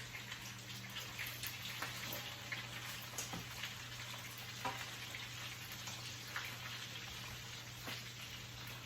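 Chicken or rabbit frying in a pan gives a steady crackling sizzle with scattered pops, moderately close and continuous, with a constant low hum underneath and no talking.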